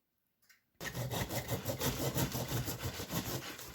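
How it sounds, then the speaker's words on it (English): A hard block of brown sugar being sawn in a kitchen gives rhythmic back-and-forth rasping strokes, close and steady for about three seconds after a brief quiet start. "you'll just fucking saw a piece of sugar off"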